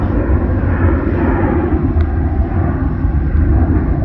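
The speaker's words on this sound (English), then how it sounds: "You can hear a plane. Oh, Ryanair taking off there." A loud, steady jet engine roar rumbles continuously, a deep broadband drone from a Ryanair Boeing 737 powering up for takeoff nearby.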